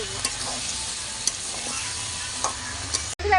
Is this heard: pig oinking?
no